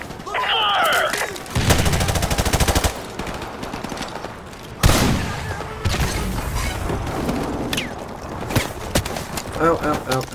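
Gunfire in the remastered Modern Warfare shooter game: sustained automatic bursts and repeated shots with a couple of sharp heavy blasts, loud and close, with voices talking over the battle.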